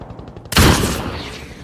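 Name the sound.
gunfire in the film The Wall (2017)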